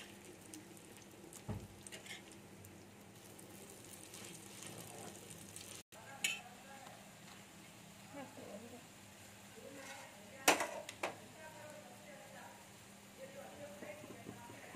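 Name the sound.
lentil fritters (bora) frying in oil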